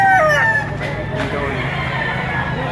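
Roosters and chickens at the Lipa, Batangas auction market, with a loud nearby rooster crow at the start, then clucking and other fowl calls under murmured background talk.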